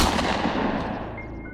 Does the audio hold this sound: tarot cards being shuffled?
no